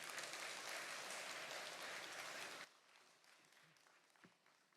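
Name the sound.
congregation applause welcoming a pastor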